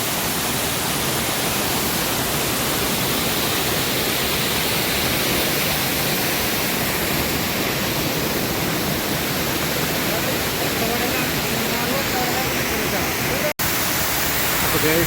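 Waterfall in Vattavada, a steady loud roar of falling water filling the whole stretch without pause, close by and alone apart from a single brief dropout near the end.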